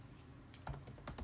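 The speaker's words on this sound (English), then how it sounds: "Type in delivery instructions" Fingers typing on a computer keyboard, a short run of quick, close key clicks in an irregular rhythm, faint and with no voices.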